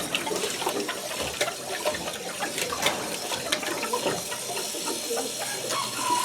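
A homemade automatic livestock waterer refills with a continuous rushing, hissing flow of water, loud and close, with faint talk in the background.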